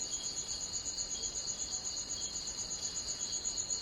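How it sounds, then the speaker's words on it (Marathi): Crickets chirping at night in a village after light drizzle, a continuous high, pulsing trill close by and unbroken, with no voices. "आवाज येतोय का रातकिड्यांचा?"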